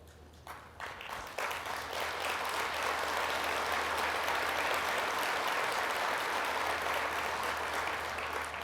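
A Farm Bureau convention audience applauds, the clapping swelling quickly from a few hands into a dense, sustained roar of a large crowd that holds steady for several seconds.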